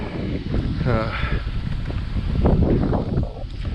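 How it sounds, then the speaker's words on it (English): Strong wind buffets the microphone with a constant low roar, while a person talks over it close by. "That's the worst part about today, is the wind."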